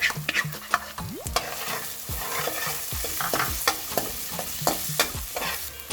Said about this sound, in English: So now our onions and ginger garlic paste are nicely cooked together.